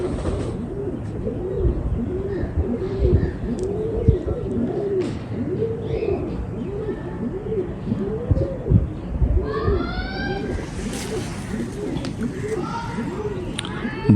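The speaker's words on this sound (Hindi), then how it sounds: "हमारे पुराने कबूतर जी" A black domestic flying pigeon coos in repeated low, rolling calls close by, with other birds chirping and voices talking in the background.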